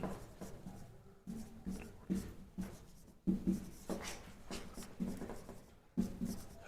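Chalk or marker strokes on a classroom board during an English grammar lecture: repeated scratchy writing bursts in short runs with brief pauses, fairly close and clear, with no talking over them.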